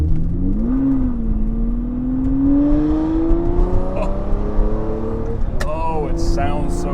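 A Lamborghini engine runs steadily and close by, its pitch climbing slowly as it pulls through the gears, with a brief shift and a burst of higher whine near the end.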